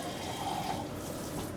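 Hot water runs steadily from a kitchen tap, a continuous close hiss and splash with no speech, as a sink fills before cleaning a griddle and frying pan.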